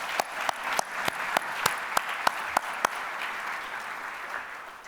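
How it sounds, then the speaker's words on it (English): An audience at an annual summit banquet breaks into a round of applause, clapping steadily and fairly close, with a string of sharper individual claps punctuating the crowd noise before it gradually thins out. "So let's all give them a round of applause."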